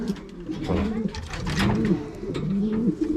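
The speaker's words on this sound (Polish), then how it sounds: "To jest ten gołąbek." A racing pigeon coos nearby in a loft, repeated throaty rolling coos with a steady rhythm, with background noise and some faint voices.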